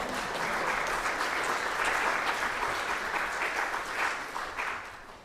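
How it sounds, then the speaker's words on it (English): A congregation at a Sunday worship service gives sustained applause for the church board: dense, steady clapping from many hands that holds for several seconds before tapering off at the end. "Let's give the board a round of applause for that"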